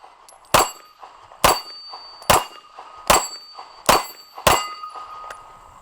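Six pistol shots from a Glock-pattern handgun ring off an old, worn steel plate rack at a shooting range, each a sharp metallic clang spaced about a second apart and decaying quickly.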